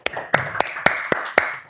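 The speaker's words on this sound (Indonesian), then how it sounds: "tepuk tangan dong." Six sharp, evenly spaced hand claps at a religious gathering, close and distinct, like one or two people clapping along rather than a full crowd.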